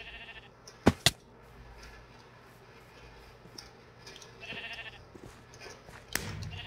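Sheep bleating in the video game Sheep Quest, heard as a few brief, fairly loud cries near the start and another near the end over steady game background noise.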